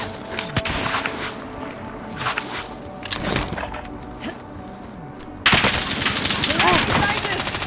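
Enemy gunfire in Warzone, a battle royale shooter: sharp cracking shots and short bursts of automatic fire at varying distances, turning into a louder sustained volley near the end, with footsteps-like clatter between shots.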